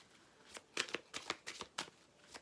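Tarot cards being shuffled, a quick run of crisp riffling snaps and flutters close up at low volume, with no talking.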